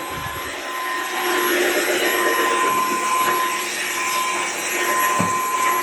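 A Dreame H15 Pro CarpetFlex wet-and-dry vacuum mop runs at a corner near a wall, giving a loud, steady high motor whine and rushing suction that holds throughout, close by and without talk.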